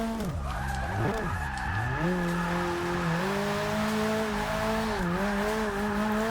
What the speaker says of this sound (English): And I'm taking an all-wheel drive car out to slide.